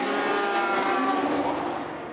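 LMP2 prototype race cars pass during the 24 Hours of Le Mans, a loud, close engine roar that holds steady and then begins to fade as they move away.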